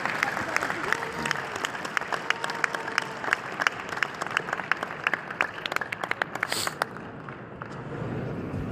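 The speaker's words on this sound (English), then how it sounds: "can we please give a round of applause to all of our 2015" Audience applause in a hall at a NAIA basketball Hall of Fame induction ceremony, loud dense clapping with sharp individual claps standing out, a brief voice and a tone near the end before the clapping fades.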